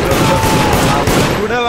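Rapid gunfire from the video game Deceit crackles in a dense, continuous burst, loud and close throughout, with a brief pause near the end.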